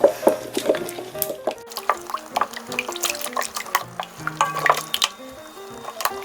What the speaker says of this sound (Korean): 양념을 버무려 주세요.